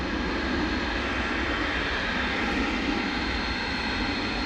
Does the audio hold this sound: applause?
no